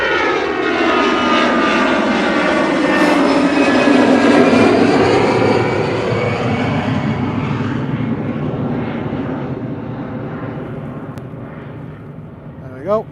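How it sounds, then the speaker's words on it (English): An EasyJet Airbus A320 takes off from Liverpool John Lennon Airport bound for Amsterdam, a loud engine roar with shifting whining tones that peaks early and fades slowly as it departs. "EasyJet A320 off to Amsterdam"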